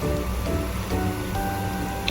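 A steamer cooking kuih lapis simmers with its lid open over the flame, a continuous close hiss and bubbling wash of steam with no talking.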